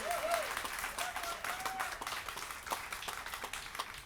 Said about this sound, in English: let's give our minister and chaplain, Rosemary Allen, another round of applause for the national anthem